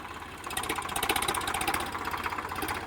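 A Preet 955 tractor engine rumbles and chugs close by, pulling an automatic seed drill sowing castor, a rhythmic mechanical drone holding at a constant level throughout, with no voices.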